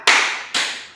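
Two sharp hand claps about half a second apart, part of a tepuk semangat class cheer in a high school classroom, each ringing out briefly in the room.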